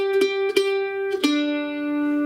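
A few plucked mandolin notes from a beginner bluegrass melody ring out clearly, with sharp attacks about half a second apart and a long sustained tone at the end.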